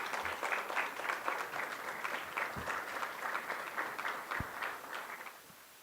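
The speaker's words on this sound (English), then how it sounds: "Let's give a resounding applause as he joins us" A hall audience at a foundation day ceremony breaks into sustained applause as the chief guest arrives, many hands clapping in a steady, fairly distant roar with a few low thumps and no speech.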